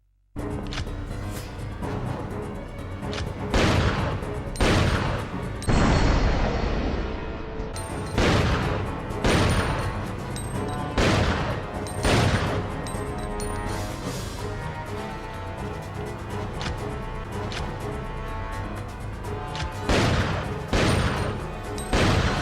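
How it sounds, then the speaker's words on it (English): A Magnum handgun fires in Resident Evil Outbreak File 2, with about a dozen loud, booming shots spaced a second or two apart, each trailing into a ringing decay, amid game ambience and no talk. "let's test the Magnum handgun out"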